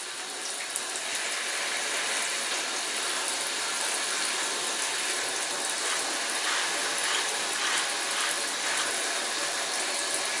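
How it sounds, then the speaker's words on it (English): Water sprays steadily onto the nylon of a First Tactical Tactix 1-Day Plus backpack during a water resistance test, a continuous close hiss and patter that runs alone without pause. "Spraying it directly on the nylon there."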